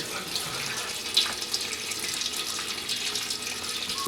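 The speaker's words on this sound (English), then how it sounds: "now that we've got the radiator drained" Antifreeze drains from a Mercedes 300D radiator, a steady splashing trickle of liquid close by that runs on for several seconds with no talk.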